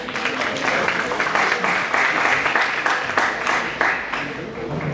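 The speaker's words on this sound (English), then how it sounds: "Let's invite Mr. Acharya with a huge round of applause." A conference audience claps in a broad, continuous wash of applause, dense and fairly loud, holding steady for several seconds with a slight fade at the end, under a faint voice.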